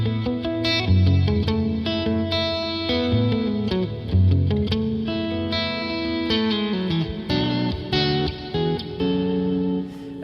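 Electric guitar through the Legends Verb pedal on its Airwave reverb preset, sustained chords and notes swelling into a wide, washy ambient tail with chorus-like shimmer and some distortion, played alone and fairly loud.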